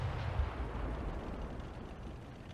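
Artillery fire in World of Tanks, heard as a low, rumbling blast fading into a steady, distant roar, fairly quiet with no talking.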